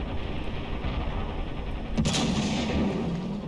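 A tank cannon fires an armor-piercing fin-stabilized round in the Ravenfield video game: one sharp, heavy boom midway through, over a steady low rumble of battle noise.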